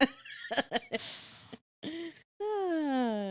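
A drawn-out yawn in the early morning, the breath sighing and rising into a long, voiced groan that slides downward in pitch, preceded by short bursts of talk and a brief pause.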